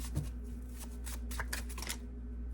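A deck of tarot cards shuffled close by, quick papery riffles and flutters in a soft continuous run over a low steady room hum, with no voices.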